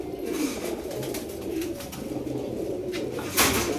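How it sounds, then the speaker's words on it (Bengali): Female Indian Nila Saranpuri pigeon cooing nearby, soft low murmuring coos running steadily through the stretch, with a brief louder rustle near the end. "এটা হচ্ছে একটা মাদি কবুতর"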